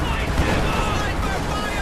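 Gunfire rattles across a Company of Heroes 2 battlefield, loud, dense and unbroken, with a voice mixed into the din.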